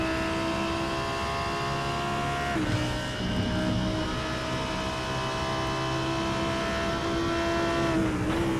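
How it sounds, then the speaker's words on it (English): A Lamborghini Huracan GT3 race car at Silverstone during a winter GT3 race, its engine holding a steady high-pitched howl, then shifting and climbing again, loud and continuous with no talk. "What a great racket the Lamborghini Huracan makes."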